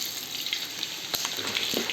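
Chickpeas fry in a little oil on a stove, making a soft, fairly quiet sizzle with a few light clicks and scrapes from stirring.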